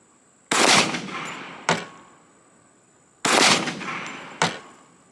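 Four shots from a GLOCK 21C pistol firing .45 ACP ammunition, loud and close, coming in two pairs about three seconds apart with a brief ringing decay after each.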